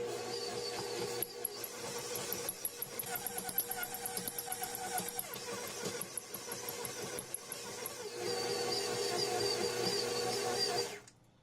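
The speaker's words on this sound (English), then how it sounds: "put it on stir speed, and then I put it up to like 2 or 3 to start creaming together the butter and the sugar" Electric stand mixer creaming butter and sugar for blueberry muffins, a steady motorized whir with a rhythmic ticking beat, rising to a higher speed near the end before switching off abruptly.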